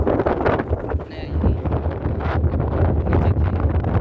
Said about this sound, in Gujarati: એટલો ભયંકર પવન ફૂંકાઈ રહ્યો છે અહીંયા